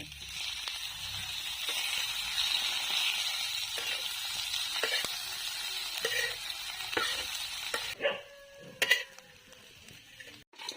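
Oil is added to a pan for bitter gourd chutney and fries with a steady, soft hiss, broken by occasional stirring scrapes and clinks. The hiss cuts off near the end, leaving a few louder knocks. It is close and there is no talk.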